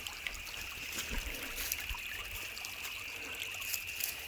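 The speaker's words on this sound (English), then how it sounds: "This is a year-round creek. So it runs pretty steady all year round like it is right now." A year-round mountain creek on an off-grid homestead trickles steadily with soft burbling and small splashes, faint and continuous, with no voices.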